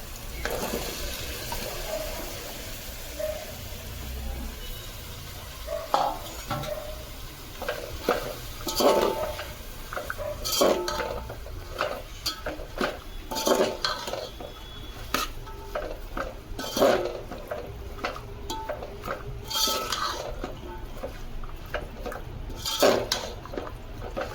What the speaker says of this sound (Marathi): इकडे आपण भाज्या मस्तपैकी घालून घेतल्यात.